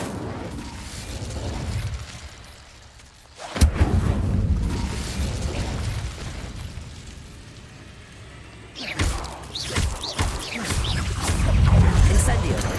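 Fire spells cast in Hogwarts Legacy, heard as several booming bursts with whooshing flame over a steady game background, the loudest blasts arriving abruptly near the middle and toward the end.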